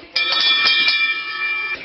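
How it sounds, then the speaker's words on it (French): An electric alarm bell rings at the Fort Boyard game show fortress, a loud sustained metallic ringing with a shimmering, pulsing tone that continues almost two seconds before cutting off. "Sonnez la cloche !"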